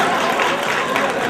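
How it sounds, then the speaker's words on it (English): Brief burst of audience clapping at a college relationships talk, a dense even wash of hand claps from a crowd, moderately loud and without talk. "You need to clap for me."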